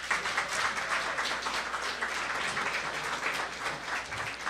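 A university lecture audience gives steady applause to welcome a speaker, a moderate, even wash of clapping throughout.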